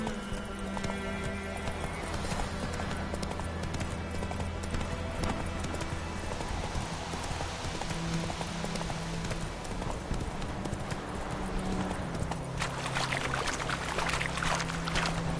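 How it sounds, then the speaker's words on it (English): Hooves of a horse galloping in The Witcher 3 video game pound in a steady, continuous clip-clop under game music and ambience, with a dense, constant loudness throughout. "Whoa there, Roach."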